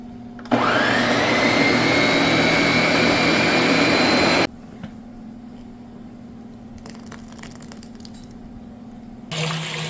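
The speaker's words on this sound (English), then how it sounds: "I'm gonna put them in a blender, syrup and all." A loud blender whirs steadily for about four seconds blending peaches with syrup, then cuts off, leaving a low hum and faint clatter before a brief restart.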